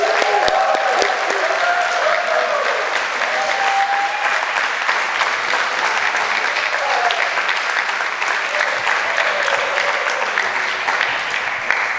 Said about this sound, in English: join me in a round of applause, maybe a few shout-outs and woo-hoos for Alta